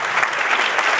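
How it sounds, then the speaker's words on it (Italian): Audience applause at a local election list launch in Rivanazzano, Italy, a dense, even burst of clapping from a crowd, brief and close. "facciamo subito un applauso"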